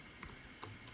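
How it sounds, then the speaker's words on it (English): Quiet, close typing on a computer keyboard comes as a few soft, irregular key clicks over faint room noise. "I'm typing that in"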